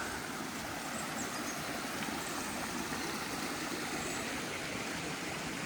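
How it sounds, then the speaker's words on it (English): A babbling brook in Glen Howe Park, Wharncliffe Side, Sheffield, gives a soft, even, continuous rush of flowing water, faint and steady with no voices. "The babbling brook."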